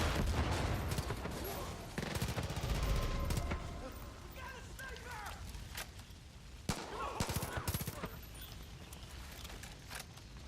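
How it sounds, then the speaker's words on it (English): A suppressed ARC rifle fires at cult members in Far Cry 5, giving muffled rapid bursts amid game ambience, with someone talking over parts of it. "let's see what we can do with the suppressed ARC"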